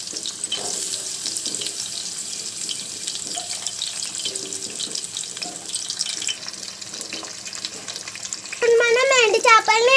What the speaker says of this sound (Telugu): ఎండు చేపల్ని ఎర్రగా వేయించుకుందాం.